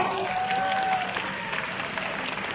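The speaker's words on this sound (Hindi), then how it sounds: "मैं चाहूंगा इनके लिए एक बार जोरदार तालियां" Steady applause from a crowd at a Vestige Marketing company event in Hyderabad, a dense wash of clapping that holds at an even level throughout, with faint voices mixed in.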